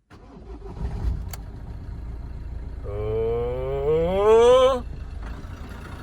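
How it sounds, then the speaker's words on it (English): A Ford Transit van engine cranks over and catches, with a rising whine and uneven revving that swells for a couple of seconds, then fades out; a voice exclaims briefly. "And then when I start it, I'm told you just leave it idling for a few minutes and don't rev it."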